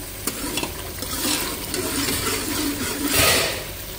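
Meat for aloo palak gosht is fried in a pan once its water has cooked off, giving a close, continuous sizzle broken by scraping stirs of the spoon.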